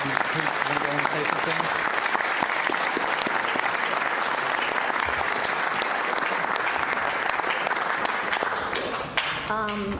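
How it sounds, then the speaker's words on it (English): Applause at a Frisco city council proclamation for the Holocaust Days of Remembrance: a loud, sustained round of crowd clapping for the full stretch, easing slightly near the end. "Let's give them a round of applause"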